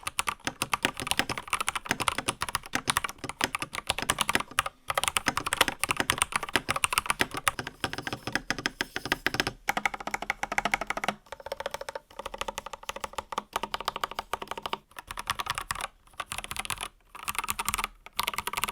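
Steady, close typing on an IQUINIX ZX75 mechanical keyboard with Gold Pink switches, a rapid stream of smooth, slightly hollow keystrokes with brief pauses between runs and no talking.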